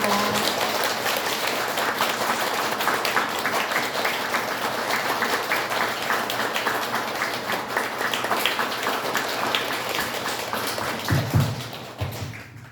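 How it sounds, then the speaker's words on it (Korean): Sustained applause from a congregation at a Buddhist temple's tenth-anniversary special dharma service, a steady patter of many hands that swells slightly near the end, then fades as a flower bouquet is presented. "큰 박수 부탁드립니다."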